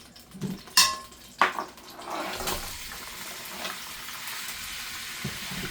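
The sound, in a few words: oil sizzling in a pan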